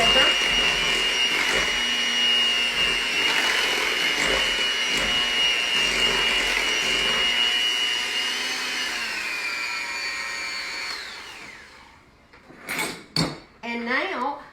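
An electric hand mixer whirs steadily through banana bread batter, its motor hum loud and even for about eleven seconds before it winds down and stops, followed by a few sharp clatters of utensils.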